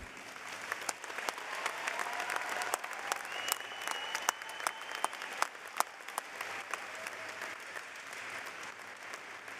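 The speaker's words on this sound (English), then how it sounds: "Let's do one more round of applause" Sustained applause from a graduation commencement crowd at a university ceremony in Joplin fills the hall, steady and dense with sharp individual claps throughout.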